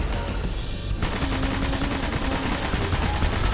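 Sustained automatic gunfire in the video game Destiny, a dense unbroken stream of rapid shots during a boss fight, loud and continuous over game noise for the whole stretch.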